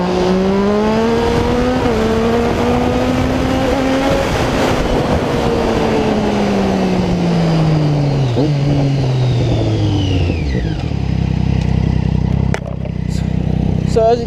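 A Triumph Street Triple motorcycle revs hard and loud close by, its engine pitch climbing and then falling as it shifts from second into third, with a steady roar throughout.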